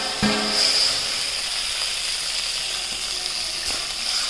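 Mustard seeds in hot oil give off a steady, close hiss with a faint high whine and a few scattered sharp pops and crackles, without any talking.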